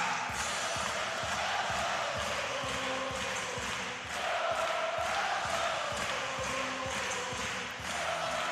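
Sellout arena crowd at the 2018 FIVB Volleyball World Championship gold medal final, Brazil versus Poland, roaring and chanting loudly and continuously with rhythmic clapping or stomping beats underneath.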